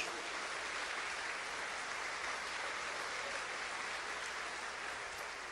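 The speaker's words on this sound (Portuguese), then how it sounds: "Vamos aplaudir o nosso Deus." A church congregation applauds together during a worship service, a steady, dense wash of clapping filling the room with no voices over it.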